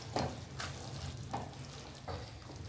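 Peas are stirred into aloo matar bhaji frying in oil, giving a soft steady sizzle with several distinct scraping stirs of a spoon against the pan at uneven intervals.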